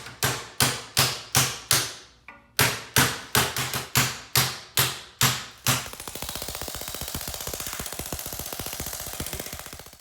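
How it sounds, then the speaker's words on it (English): Steel hammer strikes bend a sheet metal lip up over a plate for a portable tool box: about a dozen loud, sharp metallic blows in a steady rhythm, then a rapid continuous rattling burst of fast hits, with no talking. "I'm just going to start it over with the hammer."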